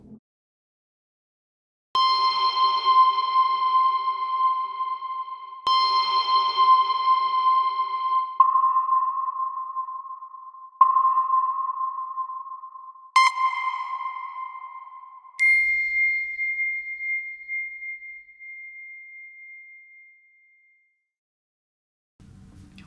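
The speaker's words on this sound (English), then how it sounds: "the ping is this thing that you most likely will hear in a trailer track" A series of bright, bell-like ping hits for trailer music, six struck tones each ringing out and decaying, some shimmering, playing alone and clearly up front before silence.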